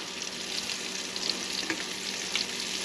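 Barracuda fillets fry in a small pan, sizzling steadily with a few brief crackles and pops rising above the constant hiss, close by and without talk.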